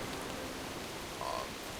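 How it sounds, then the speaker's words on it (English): Steady rain falls in the World of Warcraft video game as an even, hissing wash of noise that stays constant throughout, with a faint brief tonal sound near the end. "Nothing quite like a good fight in the rain."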